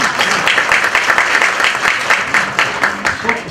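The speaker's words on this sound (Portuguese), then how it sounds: "Uma salva de palmas para a Maria Tereza" Audience applause for Maria Tereza, representing inspectors at a real estate council talk, a loud, close burst of many people clapping with an uneven, pulsing rhythm throughout.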